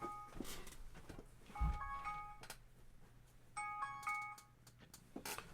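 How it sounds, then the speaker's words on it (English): A cell phone rings in a quiet room, two short clusters of bright electronic melody tones separated by a pause, fairly faint, with a bump and light rustling around them and no talking. "Damn cell phone."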